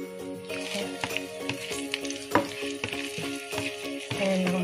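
Garlic and onion fry and brown in a pan for Filipino bihon noodles, a loud, close sizzle broken by frequent sharp clacks and scrapes of stirring, with a steady hum in the background.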